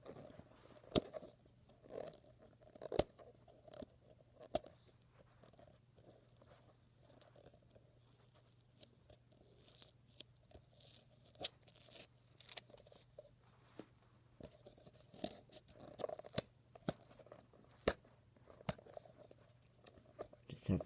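Labels being peeled from an iPod Nano 7th generation box and the box ripped open, close and faint, with sharp tearing snaps and crinkles scattered over a low steady hum.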